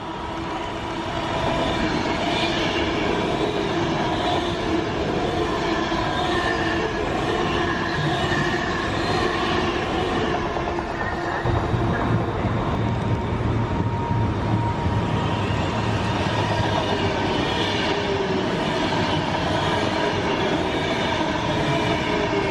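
An Avanti passenger train passes through a station without stopping, filling the scene with a sustained loud roar of wheels and rushing noise that shifts to a deeper rumble partway through, with no talking.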